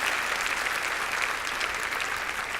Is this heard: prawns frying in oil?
no